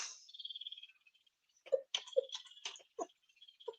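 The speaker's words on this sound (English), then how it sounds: "Now I hear bird chirping." Birds chirp in short clipped notes with a trilling sweep at the start, then scattered chirps at irregular intervals, faint and alone against a quiet background.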